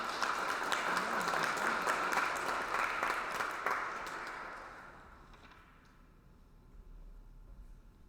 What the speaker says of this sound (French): elle mérite une belle main d'applaudissements